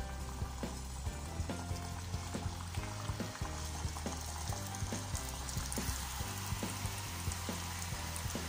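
Mandazi dough deep frying in hot oil on a pot over a fire, a steady busy crackle and fizz with scattered pops and a low repeating rumble running throughout.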